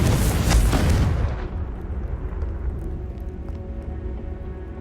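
A Confringo blast spell goes off in the Hogwarts Legacy video game: a loud, close explosion bursts at once, then its rumbling boom fades away over the next few seconds.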